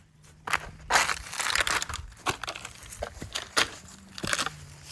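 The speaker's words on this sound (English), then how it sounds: "water bottles to walk through." A horse walks across crushed plastic water bottles on an obstacle course, producing repeated loud crinkling and crunching with each hoof step, irregular and close, over a faint low hum.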